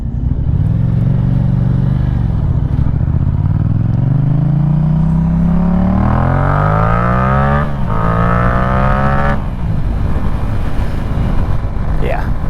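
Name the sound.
motorcycle exhaust sound while riding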